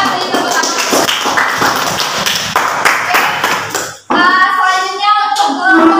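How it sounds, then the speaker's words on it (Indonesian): Students in a mathematics classroom clap together for a group, a brisk patter of many hands lasting about four seconds before it stops and children's voices start talking. "silakan beri tepuk tangan"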